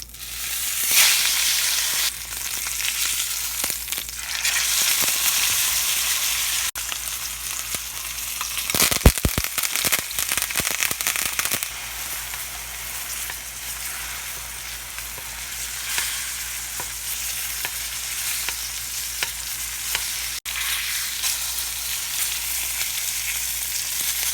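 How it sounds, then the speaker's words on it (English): Steady, loud sizzling of steak searing in a hot pan, a continuous hiss with brief crackling bursts partway through. "Now I'm going to take the steak and I'm going to put it on the pan."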